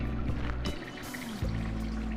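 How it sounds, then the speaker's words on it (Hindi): Water poured into a pot of beef korma: a continuous splashing, gurgling pour at close range over a low steady background hum, running throughout without talk. "अब इस स्टेज पर हम ऐड कर देंगे वाटर"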